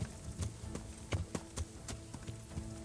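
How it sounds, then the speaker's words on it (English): Regular, fairly quiet horse hoofbeats in the video game Kingdom Come: Deliverance clop along at an even trotting pace, each strike crisp against a low background hum. "Peter, the horse is here"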